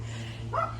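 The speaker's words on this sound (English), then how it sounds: "Stop barking!" A dog in a backyard gives a single short bark over a steady low hum, brief and moderately close.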